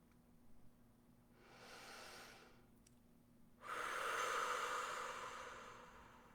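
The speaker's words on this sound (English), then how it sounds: "when I breathe out loud like that, it helps me to relax even more" A person breathes out loudly and slowly to relax, two long, airy exhales close to the microphone in a quiet room, the second longer and stronger than the first.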